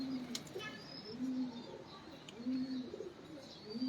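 A pigeon held up for inspection coos in repeated low, throaty phrases, several distinct coos spaced about a second apart, close and moderately quiet, with faint chirps from other birds behind.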